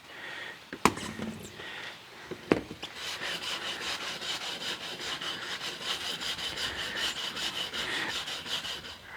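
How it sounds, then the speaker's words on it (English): A scrub brush works hard over a weathered wooden deck, a steady rhythmic rasping scrub close by after a couple of sharp knocks at the start, with no talk. "We're taking turns with the scrub brush, and then the other is rinsing"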